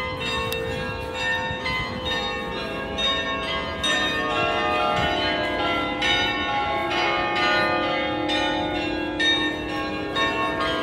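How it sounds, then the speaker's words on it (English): A church bell rings repeatedly on Bond Street in London amid Christmas decorations, loud rich strikes overlapping in a steady pealing rhythm with a lingering hum, no talk. "Bell's up there, giving it a good go for its money."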